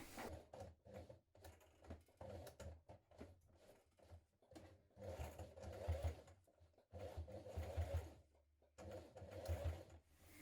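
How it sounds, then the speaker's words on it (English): A domestic sewing machine top-stitches through the very thick layers of a Redwood tote bag, running in short bursts of rapid mechanical stitching with brief pauses between them, close and clear. "do walk your machine over it and take care"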